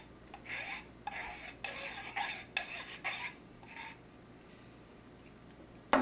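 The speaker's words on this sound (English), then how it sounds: "file the edge off" A dirty mechanic's metal file rasps burrs off a cut edge in a series of about eight quick, close scraping strokes, then stops, ending with a sharp knock.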